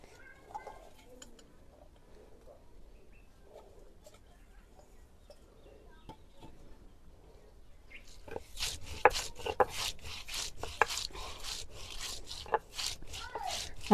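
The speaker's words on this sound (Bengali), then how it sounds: "এখন পেঁয়াজ পিষবো।" Onion is ground by hand on a stone grinding slab in a village kitchen: quiet at first, then a rhythmic run of rough scraping, rubbing strokes that repeat steadily and fairly close.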